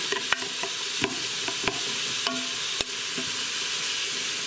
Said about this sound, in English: stir this around a little bit and kind of break up those onion layers